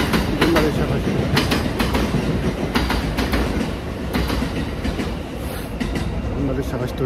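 A train rolls past near Kyoto Station, with a steady rumble and rhythmic clatter of wheels over rail joints close by, continuing throughout while someone talks excitedly over it.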